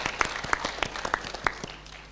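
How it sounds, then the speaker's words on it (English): A modest round of applause from an audience at a Pan African Youth Convention at the Kenya School of Government, scattered hand claps at mid-distance that thin out and fade within about two seconds. "A round of applause."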